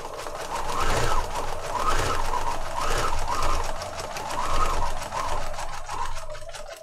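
A sewing machine stitches through a file folder journal, its close, steady mechanical whir pulsing in rapid regular bursts throughout, with no voices.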